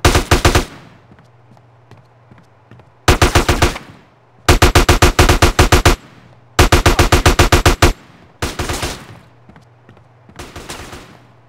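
Automatic gunfire in Grand Theft Auto San Andreas Remastered: loud, close bursts of rapid shots, about six rattling volleys separated by short pauses, with no talking.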